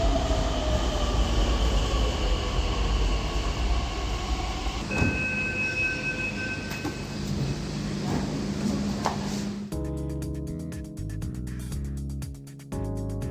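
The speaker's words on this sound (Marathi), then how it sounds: "डेक्कनहून रामवाडीकडे जाणारी मेट्रो पकडली" Steady rumble and whine of a Pune metro train running from Deccan toward Ramwadi, heard from inside, with a rising motor tone and a chime near the end.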